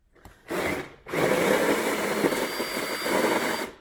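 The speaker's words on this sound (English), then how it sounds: "that's the plastic drilled out" Power drill boring through plastic on a custom exhaust for a Smart Fortwo W450, a short burst then a longer sustained whine, loud and close, with no talking.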